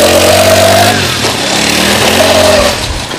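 A small electric motor scooter pulls away and rides off, its motor whine rising in pitch, easing, then climbing again close by and fairly loud, with no talking.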